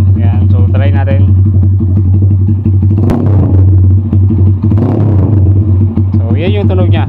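A Sigma 250 motorcycle fitted with an SC Project exhaust and no silencer idles and revs nearby with a deep, loud, throbbing rumble, while someone talks over the engine.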